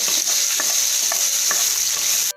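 Onions sautéing in a pan, a steady loud sizzle with a few light stirring scrapes throughout and no talking.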